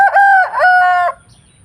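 A rooster crows loud and close in a long, full cock-a-doodle-doo among a flock of young chickens, then the call cuts off, leaving faint background noise and no talking.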